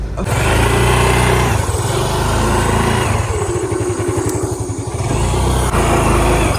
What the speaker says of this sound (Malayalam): ബൈക്ക് എടുത്തു ഇനി ബൈക്കിൽ പോകും